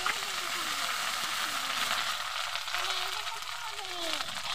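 Green chilli and a little ground ginger paste frying in a pan for a Bengali mochar ghanto, a steady broadband sizzle held at an even level throughout with a faint voice underneath.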